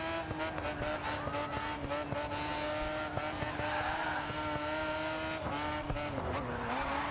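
A race car in the GRID 2 video game, a non-drift-category car, drones at steady high revs with sustained engine harmonics and brief tire squeals, loud and continuous without talk.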